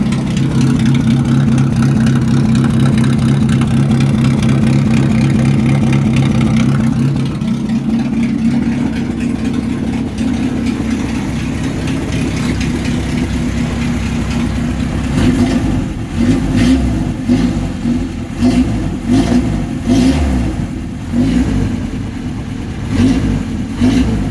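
A cold car engine warming up drones at a steady idle, then gets revved repeatedly in uneven bursts, loud and close with no voices.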